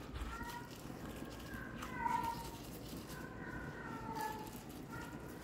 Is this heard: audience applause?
no